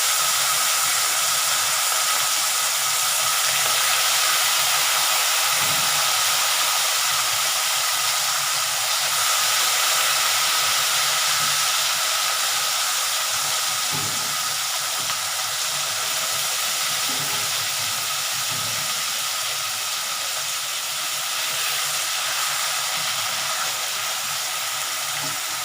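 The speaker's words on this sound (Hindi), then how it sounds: "इसी गर्म तेल में मैं बाकी के फिश के पीसेस को भी डाल के फ्राई कर देती हूँ।" Pieces of fish frying in hot mustard oil for a Bihari mustard fish curry, a steady loud sizzle and hiss that continues throughout with no voices.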